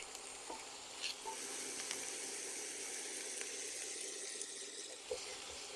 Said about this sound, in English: what you want to do now is just brown your Italian sausage